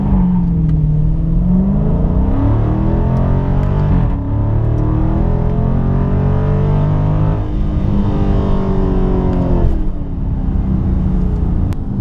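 A car launches in second gear with its wheels spinning, a loud close engine roar that climbs in pitch, dips and surges again through several revving pulls over about twelve seconds, with a whirring drivetrain underneath.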